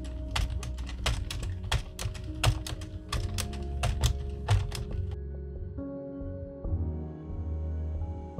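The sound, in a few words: circular knitting machine cranking rows of waste yarn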